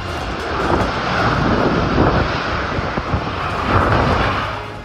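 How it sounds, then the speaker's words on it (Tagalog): Super typhoon winds and rain lash Basco, Batanes, a steady, heavy roaring wash that swells and eases slightly over several seconds, with no speech. "Malakas na hangin at ulan ang bumayo sa Basco, Batanes."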